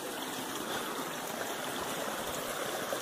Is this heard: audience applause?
no